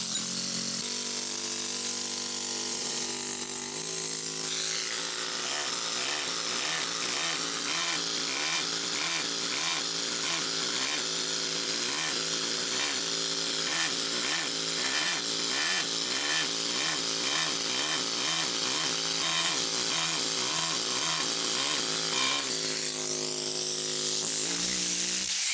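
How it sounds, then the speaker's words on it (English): Pneumatic air-driven hammer working stone during rockfacing and shaping, a loud, continuous rapid-fire chatter running for over twenty seconds with brief pauses at the start and near the end. "that's really the way to get production, is to use an air-driven hammer."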